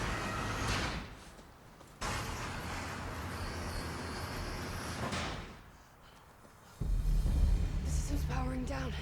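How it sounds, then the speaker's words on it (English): A heavy sliding door in the game Enslaved: Odyssey to the West grinds open with a long mechanical rumble and hiss, fairly faint, followed by a voice speaking. "I hope you opening a door works also."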